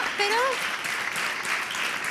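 Audience applause for the stage manager during a Spanish interview event, a steady wash of clapping with a brief voice rising over it at the start.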